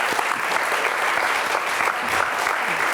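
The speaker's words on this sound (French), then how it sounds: "On peut les applaudir, non?" Crowd at an Olympique Lyonnais fan gathering bursts into steady, dense applause, fairly close and even, with a few faint voices mixed into the clapping.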